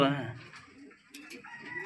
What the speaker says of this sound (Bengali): মাশাআল্লাহ, এখানে আরও এক জোড়া কবুতর আছে